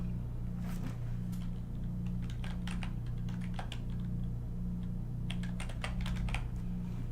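An email address is typed on a computer keyboard in short bursts of soft, close key clicks over a low steady hum, with no talking.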